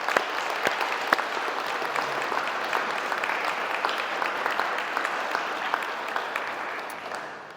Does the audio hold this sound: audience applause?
yes